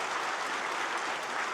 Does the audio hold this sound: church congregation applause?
yes